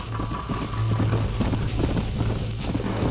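Horse hooves pound in a steady gallop during a Western race in Red Dead Redemption, loud and close, with a continuous low drumming rhythm and no talk over it.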